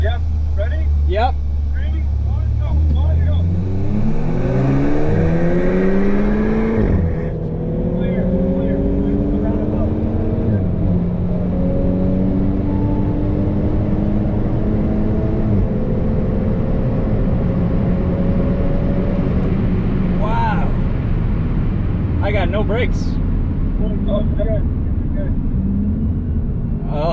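Engines of a stock Audi S4 B9 and a tuned VW Golf R Mk7.5 revving hard as they launch and race, rising and falling gear pulls heard from inside the car with voices over the engine noise.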